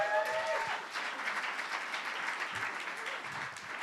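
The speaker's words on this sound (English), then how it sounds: "So give Reimer a big round of applause." An audience at a regional conference applauds, sustained clapping of moderate loudness throughout, with a brief tonal squeal at the start and faint voices underneath.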